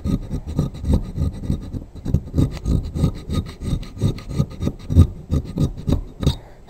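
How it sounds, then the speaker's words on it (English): Hand scraping of Sea King boat motor parts, a steady rhythmic back-and-forth rasp repeated many times, close and fairly loud with no talking. "Where I'm just sitting here scraping away."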